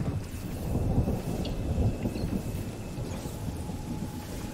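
Storm ambience in the Fortnite video game plays as a low rumbling thunder with a rain-like wash, loudest in the first two seconds and then settling into a steady murmur.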